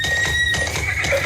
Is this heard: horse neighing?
yes